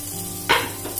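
Onion and garlic dry-sautéing without oil in a pan, heard as a brief burst of sizzling and stirring midway that fades to a soft hiss.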